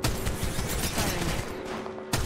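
Enemy gunfire in the Apex Legends video game: a steady, dense rattle of distant shots and impacts running throughout, with a sharper burst near the end.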